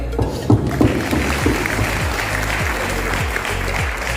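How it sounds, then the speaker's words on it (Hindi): Crowd at a business plan programme event in Raipur clapping, sustained applause with a few sharper claps near the start and a low hum beneath. "जो तैयार चाहेंगे उनके लिए ताली"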